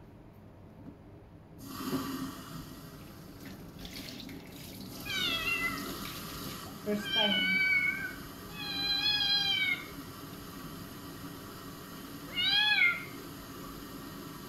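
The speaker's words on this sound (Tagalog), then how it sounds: "Tatry ako magpaligo ng pusa." A cat being bathed under running tap water in a hot climate meows repeatedly in drawn-out, rising and falling cries, close and clear over the splashing water, with a brief spoken phrase.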